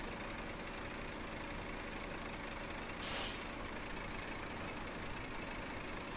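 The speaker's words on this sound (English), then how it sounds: "And the truck is sitting right there." A truck in the SnowRunner video game sits idling with a steady low engine rumble, and partway through a single short hiss of air brakes bursts out, close and brief.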